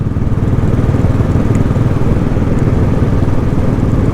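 A Royal Enfield Classic 500 single-cylinder motorcycle on the move, its engine a loud, continuous low thumping drone that holds steady throughout, close up and alone.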